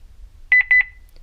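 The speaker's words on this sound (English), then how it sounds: "You get 2 beeps." A Honeywell Lynx Touch L7000 alarm panel gives short, bright electronic beeps in quick succession, close and clear against near silence.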